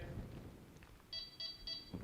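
A v2 bite alarm set to beep speed 2 gives three short, faint electronic beeps in an even rhythm against a quiet background.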